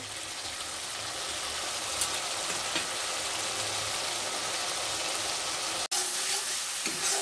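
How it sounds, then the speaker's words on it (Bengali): Ground spices and onion paste fry in a pan for a Bengali bata fish curry with potatoes, giving a steady close sizzle with light stirring scrapes and one brief clatter near the end, with no talk. "মশলাটা ভাজা হয়ে গেছে"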